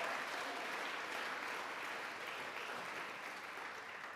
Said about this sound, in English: We can give a round of applause for that.